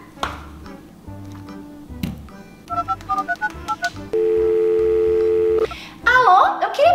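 Telephone dialing in the Talking Tom Friends mobile game: a low ringing tone, then a quick series of short keypad beeps, followed by a long steady dial tone before a burst of brighter game sound. The tones are clear and loud, with no talk.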